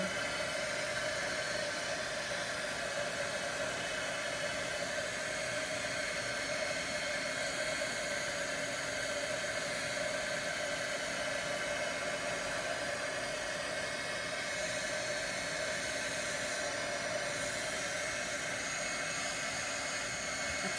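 A hair dryer blows steadily for the whole stretch, a continuous close whirring rush of air drying wet paint on a jar-of-flowers craft painting, with no voices over it.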